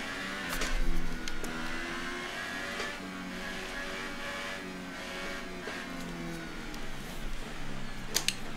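F1 2018 race car engine in a video game with the throttle gently tapped, a wavering, stuttering engine tone that rises and falls unevenly, with a few short sharp clicks.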